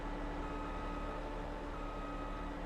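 A forage harvester left in reverse gear beeps in Farming Simulator, its steady warning tone repeating over a constant engine drone at close range, with no talk.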